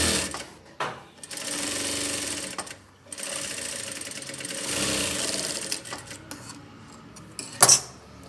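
Sewing machine stitching a blouse with a stitch regulator set for a large stitch, running in long steady whirring bursts with brief pauses, close and loud, ending with a short metallic clink.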